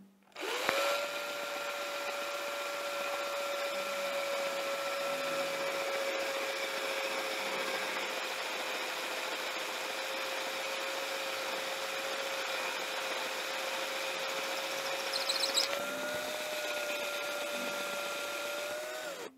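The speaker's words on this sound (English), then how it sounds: "we also want to drill a little hole all the way through the end piece" A steady high-pitched whine of a small power drill boring a small hole through an end piece, running continuously for nearly twenty seconds, with a brief change in pitch near the end.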